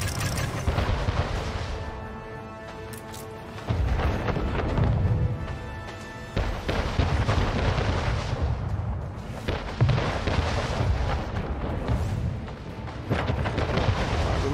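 Ship cannons firing in the naval combat of Anno 1800, a steady barrage of booming shots and rumbling impacts layered over continuous battle din, loud and dense throughout.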